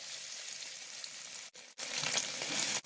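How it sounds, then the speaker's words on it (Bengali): An egg fries in a pan, a soft, fairly faint hiss of sizzling oil that dips for a moment and then comes back fuller and brighter. "ডিম ভাজতে আছে"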